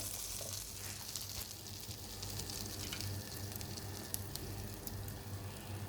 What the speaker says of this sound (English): So I'll just spread my oil and butter everywhere.